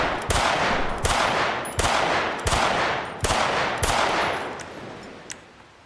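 Pistol shots from a FiveM GTA V weapon sound pack for a video game: six sharp, loud reports at a steady rhythm, each followed by a long ringing tail, heard alone with no talking.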